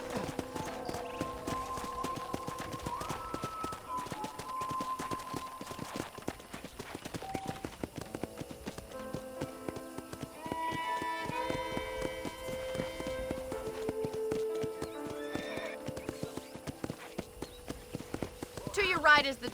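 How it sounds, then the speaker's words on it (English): Steady clip-clop of horse hooves while riding in the video game Red Dead Redemption, a continuous rhythmic trot under game music and a talking voice throughout. "let's see if you can still ride a horse"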